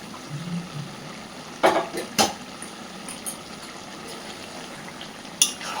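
Bottle gourd and fish head curry, sweetened with sugar and cooked the traditional way, simmers in a pan with a steady close hiss while a spoon scrapes and clinks against the metal a handful of times at irregular intervals, no voices.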